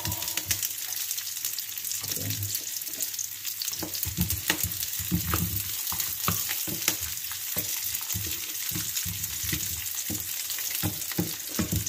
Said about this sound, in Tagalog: Dito na natin igisa yung ating bawang.